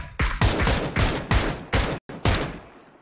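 Video game gunfire sounds as about seven loud, evenly spaced shots, each with a short echoing tail. A brief gap falls before the last shot.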